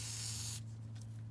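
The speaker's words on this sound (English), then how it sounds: "just grab your WD-40, just douse everything so it doesn't rust." A can of WD-40 sprays in a short, close hissing burst that cuts off after about half a second, leaving only faint low background hum.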